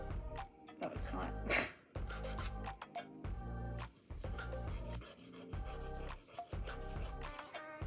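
A dip powder nail is filed down by hand in short, repeated rasping strokes, close up and fairly loud, with brief pauses between bursts.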